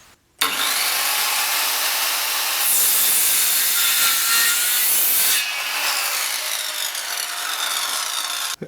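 A Dnipro-M CS 185 M circular saw starts abruptly and cuts steadily through a 100 by 100 mm wooden beam with a loud, sustained whine and rasp, shifting pitch partway through before stopping.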